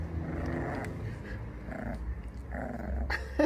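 A puppy growls low and continuously close by, with small yips and rustling breaking in, no speech.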